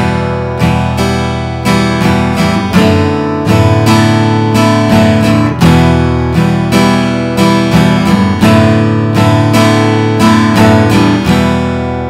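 Steady, loud acoustic guitar strumming in a four-count pattern with beat three left out, a repeating rhythmic chord pattern played up close without voices.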